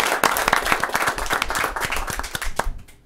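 An audience claps and applauds a guest being welcomed on a French morning talk show, a steady patter of many hands, moderately close, that fades out at the end.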